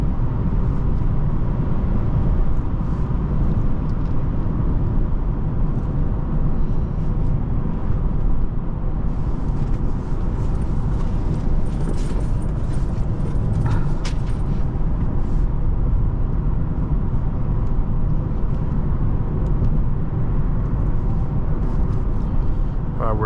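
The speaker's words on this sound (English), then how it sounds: "We're downshifting before the turn. We're gonna do one more downshift." 2006 Lexus IS250 driving with manual-mode upshifts and downshifts, a steady engine and road drone heard from inside the cabin, with a driver talking over it throughout.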